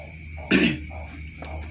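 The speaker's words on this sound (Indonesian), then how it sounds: "Maaf, ini lagi batuk." A single short, harsh cough bursts out close to the microphone, followed by a quieter throat sound against a steady background hum.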